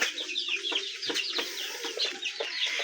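Roosters and chickens feed together, giving a steady stream of short clucks and chirpy calls with a few sharp pecking taps, close and moderately loud.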